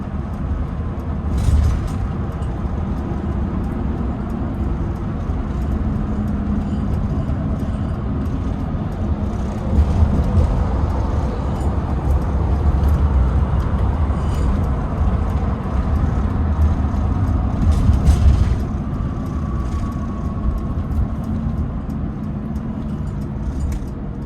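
A 2021 Mercedes-Benz Sprinter 2500 4x4 van with a turbo-diesel V6 drives along with a steady low engine drone and road noise, rising briefly as it pulls harder, with light rattles.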